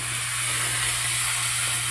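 Handheld steam cleaner set to constant steam hisses loudly and evenly from start to finish, with a low steady hum beneath the hiss.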